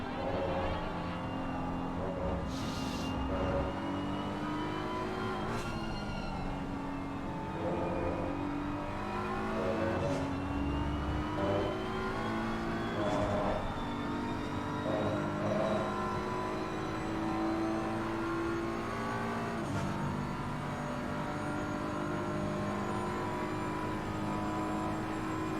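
A BMW race car engine in the sim racing game Assetto Corsa Competizione, revving high and steadily with repeated upshifts and downshifts, loud and continuous as it laps Spa.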